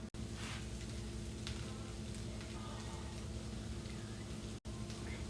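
Food browns in a pan on the stove with a constant, dense sizzle and crackle, close and even throughout with no letup.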